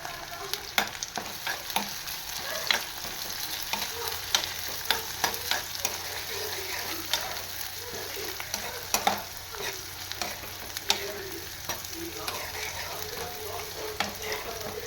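Steady sizzling of tomatoes and onions frying in a pan, with repeated scraping and stirring clicks throughout, close and fairly loud.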